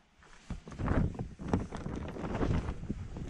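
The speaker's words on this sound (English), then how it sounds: "it's way too breezy out there" Gusty wind buffets the microphone outdoors beside a greenhouse in uneven, rumbling bursts that rise and fall over a few seconds.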